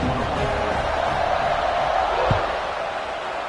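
A football stadium crowd waits for the kickoff with the game tied in the fourth quarter, keeping up a steady, loud, even roar.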